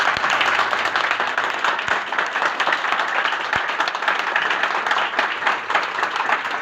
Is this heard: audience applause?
yes